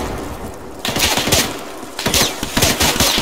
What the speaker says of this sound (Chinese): 前面有枪声